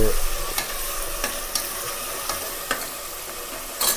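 Tomato fries in a pan with a steady close sizzle for tomato bath, and a spoon stirs and scrapes against the pan at a few points.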